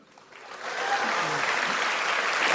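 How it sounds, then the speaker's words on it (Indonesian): Applause from a crowd swells up and holds steady, a dense wash of clapping hands with no voices on top. "bagus, tepuk tangan dulu."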